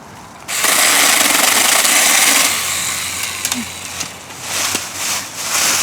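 A mini chainsaw cuts firewood, its small engine starting abruptly into a loud, continuous high-pitched buzz that eases a little as it bites into the wood and then rises again, close by with no voices.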